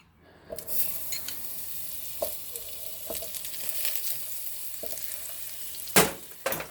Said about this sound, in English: I've got a pan that's already sitting on medium-high heat. What we're going to do is we're going to add some whole butter.